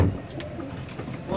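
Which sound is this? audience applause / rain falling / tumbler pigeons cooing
tumbler pigeons cooing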